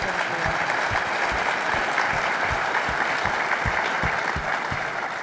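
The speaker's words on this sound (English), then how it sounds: "I think we all owe both James and Amy a big round of applause" Keynote audience at Samsara Beyond 2024 applauding, broad steady clapping from a large hall, continuous and even for several seconds with no voices over it.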